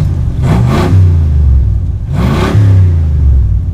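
Big block V8 engine revving to about 5000 rpm in a garage, two loud rising revs close up, each climbing then holding high before dropping back.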